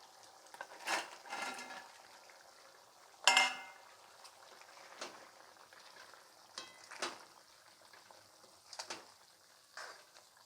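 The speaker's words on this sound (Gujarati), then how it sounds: "હવે તેમાં તળેલા મૂઠિયા પણ નાખી દેવા." Fried muthiya are added to a pot of undhiyu and stirred, with soft scraping and clinks of a spoon against the pot over a faint simmer, in scattered short strokes.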